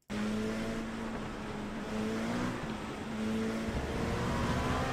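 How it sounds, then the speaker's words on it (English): Simulated race car in iRacing spinning its wheels on a wet track in the rain, a steady engine drone with wavering pitch and hiss of spray, continuous and loud with no talking. "When I get into that part of the track, I get wheel spin."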